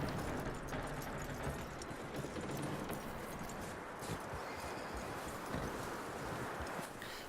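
Horse hooves walking at a steady pace in Red Dead Redemption II, an irregular clip-clop set against a continuous outdoor wind and rustle ambience that stays fairly even throughout.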